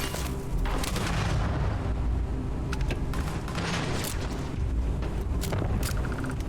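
Rocket launcher explosions in the Starfield video game, a dense, loud, continuous rumble of booms and blasts with sharp crackling bursts scattered throughout.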